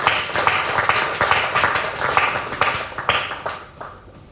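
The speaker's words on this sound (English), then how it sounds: "I think we should give them another round of applause." Audience applause at a handbook launch, a modest gathering clapping in uneven bursts with distinct individual claps audible, tapering off toward the end.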